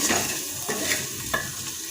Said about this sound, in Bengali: মশলাগুলো দিয়ে একটু লাল লাল করে দিচ্ছি